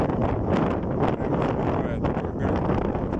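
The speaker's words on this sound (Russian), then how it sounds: "натурально уже проганит ветер, уже даже пытается меня сдвинуть вот по траве" Strong autumn wind gusts across open grass and bushes, roaring steadily and buffeting the microphone with a dense rushing noise throughout.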